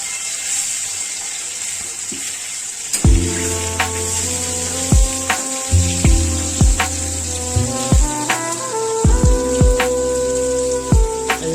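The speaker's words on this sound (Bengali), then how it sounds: "আজ আমি রুই মাছ ভাজা আপনাদেরকে দেখাবো" Rohu fish fries in a hot wok under a constant high sizzle, with a run of sharp metallic clicks and taps from utensils striking the pan at irregular intervals.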